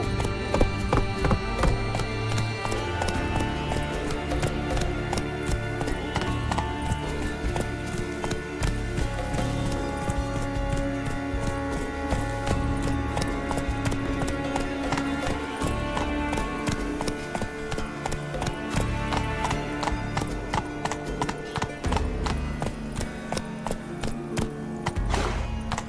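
Roach the horse gallops at a steady fast clip-clop rhythm with continuous hoofbeats and game music for the whole stretch in The Witcher 3.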